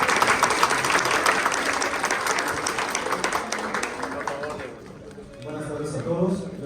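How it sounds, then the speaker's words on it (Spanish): Applause from an audience welcoming a speaker at a forest entrepreneurship panel, dense clapping that gradually thins and fades out, followed by a voice starting to talk. "Un aplauso, por favor."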